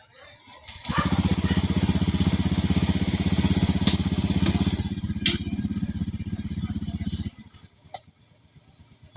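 A Honda Beat motorcycle engine starts with a brief crank, then runs at a steady, close, buzzing idle for about six seconds before cutting off, followed by a few light clicks and knocks.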